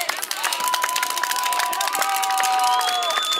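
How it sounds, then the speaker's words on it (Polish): A crowd cheers and shouts at the finish of the Karkonosze mountain marathon in Szklarska Poręba, a dense, continuous roar of voices with whistles and applause-like crackle close by. "Przed wiwatów publiczności na podium się wdrapuję."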